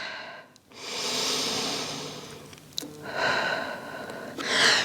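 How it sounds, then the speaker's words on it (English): Long, audible exhales through the mouth during a Pilates reformer session, two or three slow airy breaths close to the microphone, each rising and fading with short pauses between. "In through the nose, out through the mouth with the breath"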